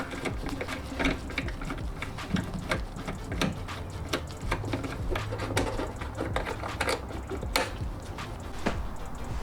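Screw being backed out of a car's corner light housing during a turn signal bulb change, heard as a dense run of quick mechanical ratcheting clicks and rattles, steady and close throughout with no talking.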